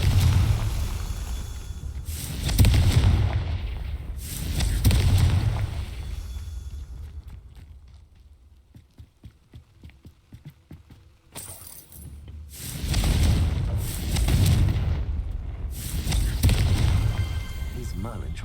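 Repeated Confringo fire-blast spells explode in Hogwarts Legacy during a Merlin trial, several heavy booming bursts in pairs, a quieter stretch of clicking in between, then more loud blasts.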